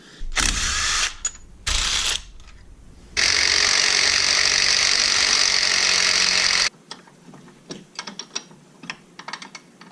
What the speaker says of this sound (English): I can start working on taking these 4 bolts out